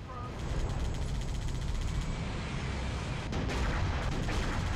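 Gunfire from the Halo Reach video game, a rapid continuous volley of shots at a steady level, with a brief dip partway through and dense low-end rumble throughout.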